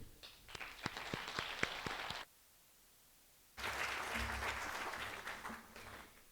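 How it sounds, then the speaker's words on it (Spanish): An audience at an academic meeting on judicial reform applauds in two rounds of steady, dense clapping, broken by a short silence, moderately distant and fairly quiet. "los despedimos con un fuerte aplauso"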